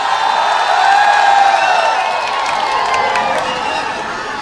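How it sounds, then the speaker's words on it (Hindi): Dense crowd noise at a political rally in Malegaon fills the whole stretch, a steady wash of cheering and shouting with applause mixed in, loud and sustained without a break. "पुरजोर तालियों में आपके हवाले।"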